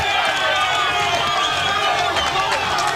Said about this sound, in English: The crowd on its feet, cheering.